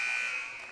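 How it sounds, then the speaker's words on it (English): A basketball end-of-quarter buzzer at a girls' high school game between Albany and Princeton, sounding as a steady, loud electronic tone that holds for the whole moment and fades slightly toward the end. "McKaylee Hankey puts up a shot at the buzzer."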